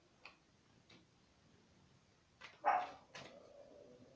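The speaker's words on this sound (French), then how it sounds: "j'ai mes chiens qui aboient" Several house dogs bark indoors, a few faint, distant yaps spread across the moment with one louder burst near the end, over a quiet room background.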